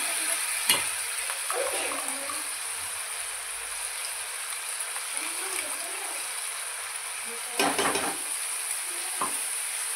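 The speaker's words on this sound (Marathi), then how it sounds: "जी आपण पेस्ट तयार केलेली होती ना तर ती मी याच्यात टाकून देणार आहे आणि चांगली त्याला फ्राय करून घ्यायची आहे" Onion paste frying in a pan, a constant low hiss broken by a few sharp spoon scrapes and stirring sounds, close and fairly quiet, no talk.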